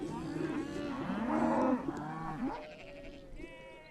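A bull in a field gives one long, wavering moo that rises and falls over a couple of seconds before trailing off, fairly close and alone.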